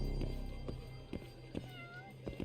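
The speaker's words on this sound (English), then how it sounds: "Why does it so seldom meow?" A cat meows faintly in a video game, soft rising cries over a steady background hum, with a few small clicks and no talking.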